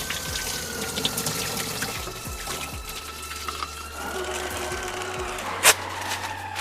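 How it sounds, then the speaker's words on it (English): Hot water from a tap rinsing a slot car body, a steady hiss and splatter running continuously up close under a low hum, with a brief sharper splash near the end. "rinse it off with some hot water."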